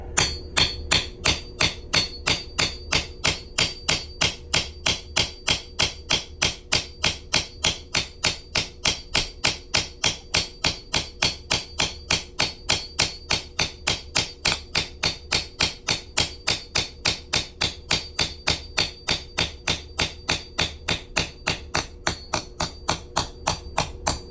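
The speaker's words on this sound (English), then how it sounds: "you put the punch on top and hammer away" Steady, rapid hammer blows on a half-inch steel hole punch, dozens of evenly spaced sharp strikes repeating without pause, close and loud, with no talking.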